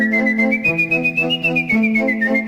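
A referee's whistle, or a whistled tone, sounds at an evening sports match, held steady and shrill with a slight pitch rise and fall, repeated in short pulses and close up, with no voices.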